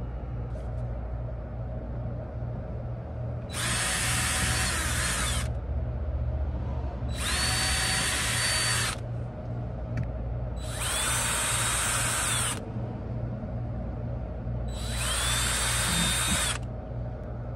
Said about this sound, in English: now I'm going to need to drill four little holes to anchor this in here with